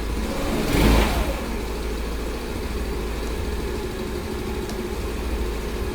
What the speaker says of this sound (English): I got the motorcycle up and running